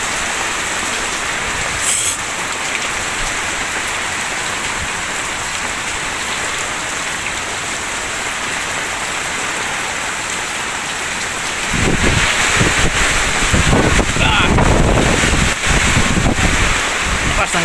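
Heavy typhoon rain pours down hard in Bay, Laguna, Philippines, as Super Typhoon Kristine's strong wind gusts roar, a steady dense wash that swells louder and rougher near the end.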